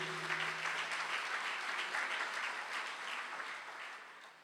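A church congregation claps together, fairly quiet and even, tapering slightly at the end, with a low hum in the room.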